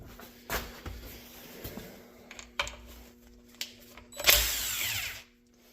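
Power tool such as an impact driver working a bolt out of a 700R4 transmission during Firebird upgrades, short bursts of whirring with clicks and clatter, ending in one longer louder burst, close up with no talk.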